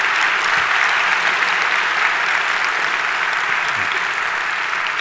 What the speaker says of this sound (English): Can you please give him a round of applause, an early round of applause?